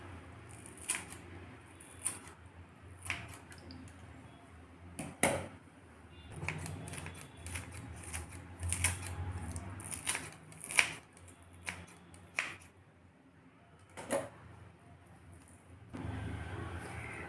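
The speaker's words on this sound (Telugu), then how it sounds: "కొత్తిమీర తర్వాత కరివేపాకు అండి, సన్నగా తరుక్కుంటున్నాను." A knife finely chops coriander and curry leaves on a board, with irregular sharp taps and cuts coming in uneven bursts over a soft kitchen background.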